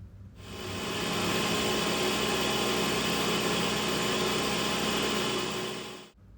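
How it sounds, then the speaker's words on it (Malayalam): An electric blender whirs loudly and steadily for about six seconds as it mixes custard powder with chilled milk, starting and stopping abruptly, close by with no voices. "അതിനുശേഷം എല്ലാം കൂടി നന്നായിട്ടൊന്ന് അടിച്ചെടുക്കാം"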